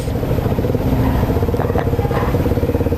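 A motorcycle offering free rides idles nearby, its engine a fast, even low chug that pulses steadily throughout, fairly loud and close, with no one talking.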